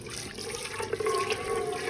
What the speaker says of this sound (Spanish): vamos a sacarle toda el agua en la que cocinamos el maíz